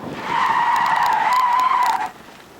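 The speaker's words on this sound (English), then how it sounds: "more tire screeching" A car's tires screech loudly through a tight turn as it skids, one sustained squeal of about two seconds that cuts off abruptly, with no talk over it.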